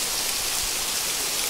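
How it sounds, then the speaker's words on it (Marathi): Heavy monsoon rain pours down in the Konkan countryside, a dense, unbroken hiss of rain on surfaces, loud and even throughout with no voices. "हे बघा एकदम दमदार पावसाने हजेरी लावलेली आहे आज।"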